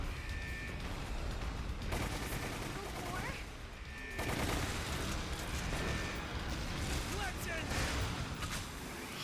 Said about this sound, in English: You want me to use my machine gun? Fine.